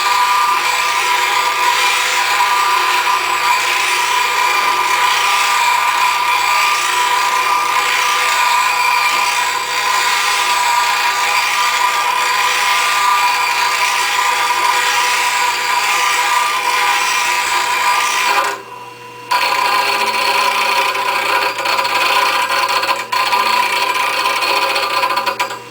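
A woodturning gouge is ground to a Michelsen grind on a grinder, a continuous loud whirring hiss with steady gritty scraping, broken by one brief pause near the end.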